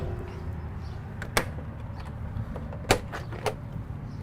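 Manger bay doors on a 2022 Cimarron Norstar 5 Horse Gooseneck trailer are opened outdoors. A few sharp metallic latch clicks and clunks stand out at scattered intervals over steady background rumble.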